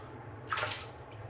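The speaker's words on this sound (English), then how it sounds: "And I can add more water, and I will add more water." Water splashing briefly from a tap into shaving soap lather, a short close burst of running water over a soft background hum.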